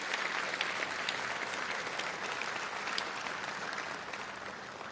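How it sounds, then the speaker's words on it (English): Conference audience applause at the VES Summit 2014 keynote, a sustained, even patter of many hands clapping, fairly faint and distant, lasting about five seconds with no talking over it. "So big round of applause for everybody on the team"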